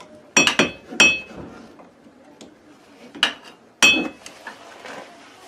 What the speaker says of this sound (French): Vous pouvez vous aider avec un marteau.